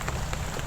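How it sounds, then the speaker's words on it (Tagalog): Rain falls steadily on a surface, a dense even patter filling the short moment with no voices. "Hindi na ako magtagal din dito Lolo ha, kasi umuulan, baka mabasa ko."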